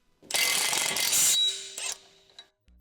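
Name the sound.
electric impact wrench with 22mm socket removing tie rod end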